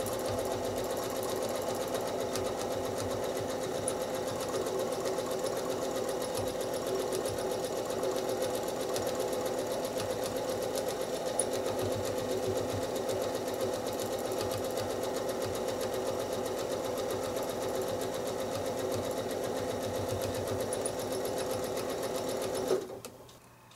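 A sewing machine quilting wiggly lines across a house quilt block runs in one steady, continuous drone for over twenty seconds, close and even, before cutting off abruptly at the end; no one speaks.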